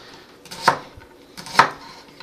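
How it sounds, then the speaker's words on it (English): A knife slices shallots on a cutting board with two distinct, close chopping strokes about a second apart, clean and without talk. "So here are my shallots. I'm just going to slice them up."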